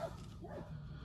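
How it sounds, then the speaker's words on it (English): Several dogs barking somewhere behind a home garden, a quick burst of yips and barks coming across at a moderate distance, with no voices over them. "My dogs are barking."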